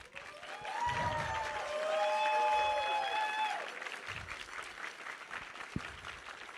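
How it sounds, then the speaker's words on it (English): Loud clapping from a crowd at a 3v3 competition's final eliminations, swelling and then tapering off, with cheers and whoops rising over it. "Just huge round of applause to everybody here."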